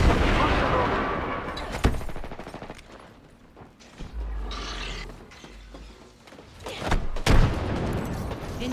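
Gunfire bursts and a frag grenade blast ring out in an Apex Legends match, with sharp loud cracks near the start and again around the middle, separated by quieter stretches of mechanical clicks and low rumble.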